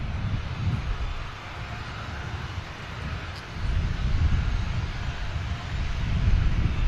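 A Ryanair airliner's jet engines rumble at an airport, a low continuous roar that eases slightly and then swells again, moderately distant and mixed with wind, with no voices.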